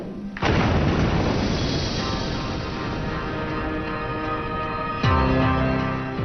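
A loud, sustained explosion sound effect stands in for the rupture of a de Havilland Comet airliner's fuselage, a booming blast rolling on for several seconds before a second sharp hit near the end.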